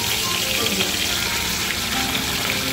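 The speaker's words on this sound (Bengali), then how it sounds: "এগুলোকে প্রথমে আমি আগে ভেজে নেব।" Large pieces of tilapia fish fry in oil, giving a loud, dense, unbroken sizzle that holds steady from start to finish.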